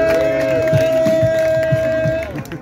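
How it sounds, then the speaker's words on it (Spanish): An outdoor crowd at a rap battle in Parque Hidalgo, León, Guanajuato, cheers and shouts in rhythmic bursts over a sustained ringing tone, loud and close for a few seconds. "¡Aplausos, bien!"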